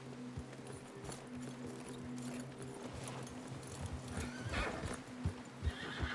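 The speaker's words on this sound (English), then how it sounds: "Get your horses ready." Horses' hooves clip-clop in an uneven, galloping rhythm while a horse neighs, with a low droning tone underneath, in the video game Red Dead Redemption 2.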